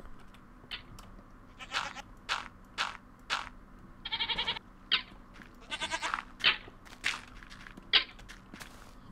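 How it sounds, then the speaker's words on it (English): Minecraft goats bleat in a run of short, close cries with quick irregular gaps. Some cries are doubled and rattly. Soft footstep and clicking game sounds run underneath, and no one speaks. "Goats."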